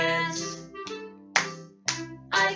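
Hands clap a few times in a children's interactive story session, a sharp slap at a time between sustained musical tones, with a gentle steady spacing.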